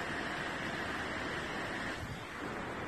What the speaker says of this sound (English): A little mini waterfall in the trees.